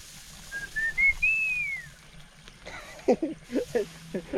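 A rising and falling whistled tone, fairly clear, followed by people talking nearby.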